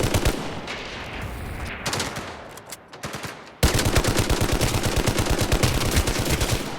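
Gunfire in an online gangster city video game crackles in loud, rapid bursts. Short volleys with brief gaps give way to a sustained, dense stream of shots.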